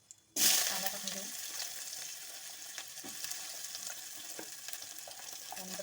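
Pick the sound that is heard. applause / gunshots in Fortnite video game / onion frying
onion frying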